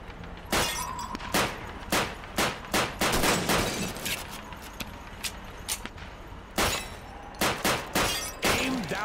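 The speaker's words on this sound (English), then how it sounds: "Shoot those bottles and plates." Rifle shots shattering bottles and plates at a shooting range in Call of Duty 2, sharp, loud cracks in irregular bursts with glass breaking, some shots clustered close together.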